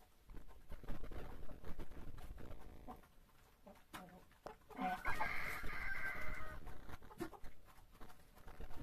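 Chickens clucking while being fed outdoors in the snow: scattered clucks and short calls, with a louder burst of squawking midway. A voice talks around them.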